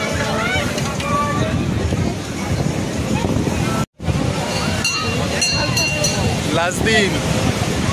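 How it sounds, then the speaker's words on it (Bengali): Sea waves at Digha beach roll and wash continuously under heavy wind buffeting on the microphone, with a person talking briefly over the steady surf. "ভালো ঢেউ আসছে"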